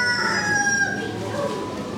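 An Appenzeller rooster at a poultry and rabbit show gives a crow, its harmonic call strongest in the first second and then fading into the hall's background noise.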